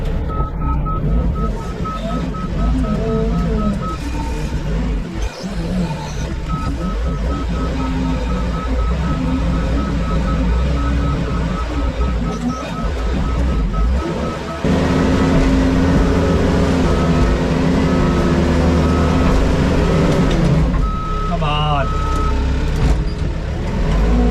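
A vehicle grinds through deep muddy ruts, its engine a loud continuous low roar that rises and strains partway through, with a repeating beep heard alongside.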